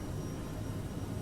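Steady, loud jet roar of an Aerosoft CRJ regional airliner climbing out in Microsoft Flight Simulator 2020, a continuous broadband engine rumble with no voices.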